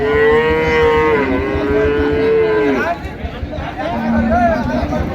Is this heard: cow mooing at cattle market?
yes